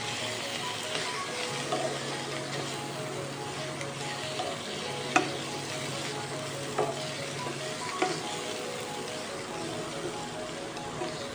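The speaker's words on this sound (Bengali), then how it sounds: "দিয়ে এটাকে একটু নেড়ে চেড়ে নেব।" Cabbage with poppy seeds sizzles steadily in a pan as turmeric is stirred in, a constant frying hiss with occasional scraping clinks of the spoon against the pan.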